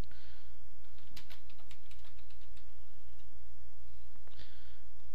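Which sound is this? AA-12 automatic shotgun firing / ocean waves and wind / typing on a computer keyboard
typing on a computer keyboard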